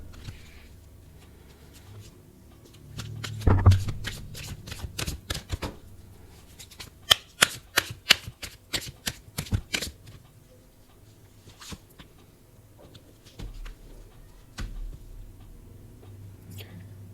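A tarot card deck being shuffled close up during a Hindi reading, with soft riffles and rapid crisp card snaps in bursts, then quieter handling and a faint low thump.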